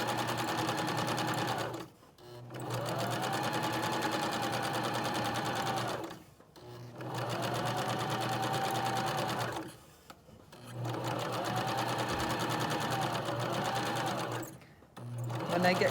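A sewing machine stitches a hem along a serged fabric edge, running in three steady motorized bursts separated by brief pauses, close and loud with no talking.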